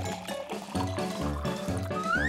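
A cartoon liquid gush as a pregnant mermaid's waters break, rhythmic gurgling pours and splashes that end in a rising whistle-like swoop.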